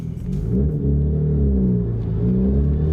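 An R33 Skyline GT-R with a UniClutch twin plate clutch pulls away, a deep rumbling engine rising under load, loud and close and steady throughout, with no rattle or voices.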